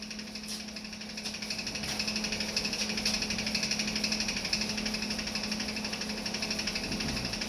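An angle grinder cuts through an exhaust pipe in a workshop, giving a loud, continuous, harsh whine with a steady hum that persists for the whole stretch.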